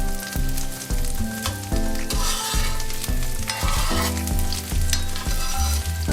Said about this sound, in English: every minute or so, give it a little stir with your ladle